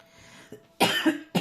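Two sharp coughs in quick succession, close and fairly loud, after a brief faint sound.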